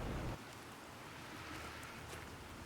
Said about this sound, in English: We made it rain, baby.